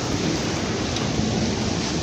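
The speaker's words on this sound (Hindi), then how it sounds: "अभी बारिश हल्की हल्की बूंदें जो है वो आ रही हैं, पड़ रही हैं मोबाइल पे भी" Light rain falls in a Pakistani village on a wet morning, drops landing on a mobile phone, heard as a close, steady hiss of noise without any voices.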